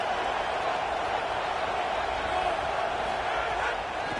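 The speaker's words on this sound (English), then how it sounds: "the crowd gets behind this defense." A stadium crowd in the Madden 26 football video game roars as a dense, steady wash of cheering at an even level, with a commentator's voice blended in underneath.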